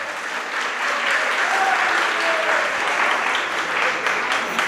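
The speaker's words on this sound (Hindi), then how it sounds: "ताली बजाने से कुछ नहीं होगा" An audience at a Jain religious sermon claps together in a dense, sustained burst of applause that holds steady throughout.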